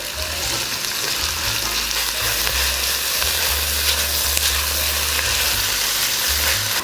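Onion and celery sauté in a pot with a loud, continuous frying sizzle and occasional stirring, heard close and alone without any talk.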